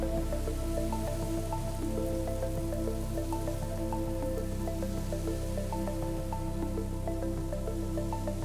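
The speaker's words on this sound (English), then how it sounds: "I used deionized water to spray down the entire bowl." Deionized water sprayed over plants inside a glass terrarium bowl, a steady soft patter and dripping that runs continuously and quietly with no voices.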